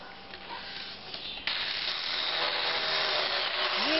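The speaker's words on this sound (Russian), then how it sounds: "Ну, возьмите пилкой." A mini cordless hand chainsaw cuts into wood, a steady buzzing grind starting abruptly about a third of the way in and holding to the end, close and fairly loud over faint background.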